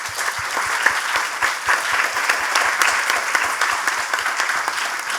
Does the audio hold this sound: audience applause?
yes